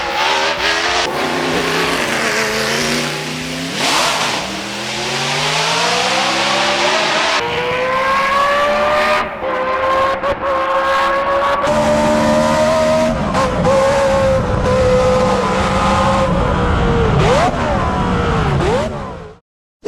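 A race car engine roars loud and close, rising and falling through revs with sharp gear changes and brief dips before cutting off at the end.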